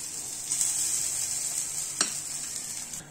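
Pongunalu batter sizzles in the cups of a paniyaram pan, a soft steady crackle with a single light utensil tap partway through.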